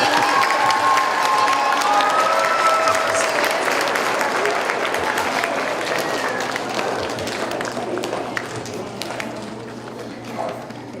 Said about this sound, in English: Let's hear another round of applause for Dr. Brown